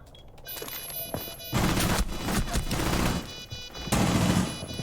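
Rapid SMG-11 submachine gun bursts from the Rainbow Six Siege tactical shooter, loud and close, in several dense clusters of automatic fire broken by short pauses.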